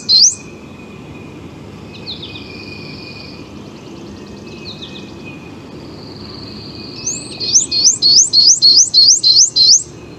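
Birdsong recorded on a neighborhood street in spring: a few thin, high whistled phrases early, then a rapid run of repeated bright chirping notes near the end over low background hum.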